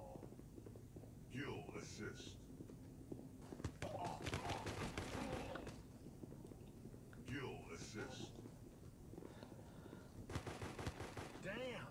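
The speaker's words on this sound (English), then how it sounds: "Where is he shooting me from?" Gunfire in the mobile shooter Guns of Boom, with starter weapons only: bursts of rapid automatic shots and single cracks in two main volleys, mixed with game effects, while a player talks quietly over it.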